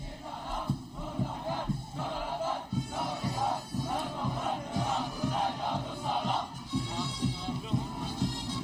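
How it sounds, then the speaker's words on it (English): A national youth service corps team at Brunei's National Day celebration chants its theme cheer in unison, a rhythmic crowd of voices in repeated bursts, loud and steady throughout. "PKBN team chanting their theme cheer, Sedia Berbakti, or Ready to Serve"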